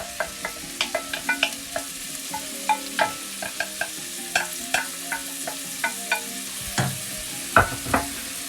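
Onions and garlic fry in melted fat in a pan, a steady soft sizzle broken by repeated stirring scrapes and clicks, close and fairly quiet.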